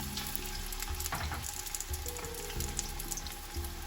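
Onions frying in cooking oil for meatless Kabuli pulao, a continuous close hiss and crackle at a steady level, with a faint tonal hum underneath and no speech.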